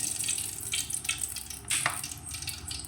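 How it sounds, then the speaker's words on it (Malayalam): Oil pouring into a hot pan on the stove before fenugreek seeds go in for a mackerel chilli curry, a soft hissing wash with a brief louder splash partway through, close and without talk. "ചട്ടി അടുപ്പിട്ട് നല്ലോണം ചൂടായി വന്ന് നമുക്ക് ഓയിൽ ഒഴിക്കാം"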